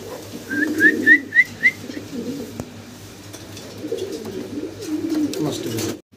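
Fancy pigeons coo in a close series of rising, whistle-like calls near the start. Softer, lower cooing and rustling follow, and a voice is heard faintly under it.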